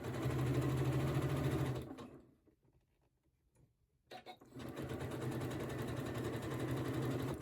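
A sewing machine runs in a fast, even whir while stitching the seam allowance of a knit shorts waistband, stopping for about two seconds of near silence before starting again.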